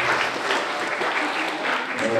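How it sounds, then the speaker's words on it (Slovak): Outdoor crowd applause for the winner of a pumpkin carving contest, a continuous round of clapping with some voices mixed in. "Takže veľký potlesk pre výťaza 8 ročníka týmto najkrajšiu petitu."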